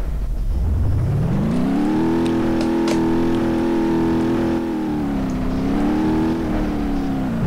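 A car engine in the driving simulator BeamNG.drive revs up from idle and holds a loud, droning high pitch, wavering slightly as the throttle shifts, with faint clicks and no voices.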